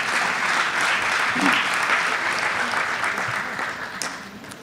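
A concert audience at a Hindustani classical violin performance breaks into sustained, dense clapping that holds steady and then starts to taper off.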